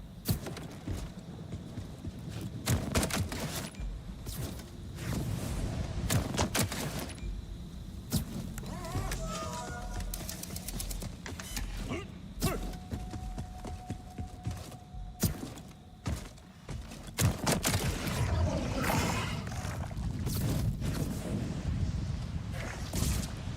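Gunfire in the video game Borderlands 4 during a high-level boss fight: irregular bursts of sharp shots and impacts crackle continuously, mixed with whooshing effects and tonal game sounds.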